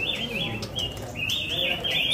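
Caged songbirds, magpie robins, at a busy village bird kiosk, giving a series of high, clear whistled phrases and chirps over a soft murmur of background noise.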